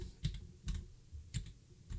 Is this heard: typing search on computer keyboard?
yes